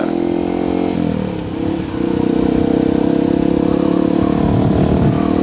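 Yamaha WR155 motorcycle engine close by, easing off briefly as it turns around on a road, then holding a steady loud hum as it rides on.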